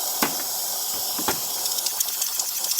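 Steam hissing from a DeLonghi Magnifica XS coffee machine's steam wand, a steady close hiss with a few sharper bursts and sputters along the way, heard alone without talk.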